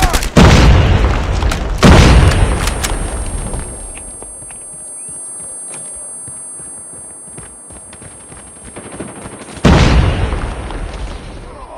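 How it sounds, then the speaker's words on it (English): Grenade blasts in the Call of Duty Mobile shooter, three loud booming explosions at the start, near two seconds and near ten seconds, with quieter in-game rumble and ambience between them. "Grenade! Run!"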